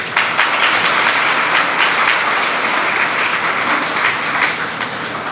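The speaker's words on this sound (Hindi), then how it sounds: "बजा दीजिए ताली।" Audience applause fills a religious discourse hall, dense steady clapping from a large crowd sustained loudly throughout, tapering slightly near the end.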